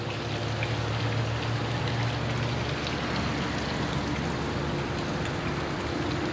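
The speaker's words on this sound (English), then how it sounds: "Complete with a waterfall." Steady broadband splashing of a backyard pool waterfall beside a paver deck, a continuous close wash of falling water with a low hum underneath and no talking.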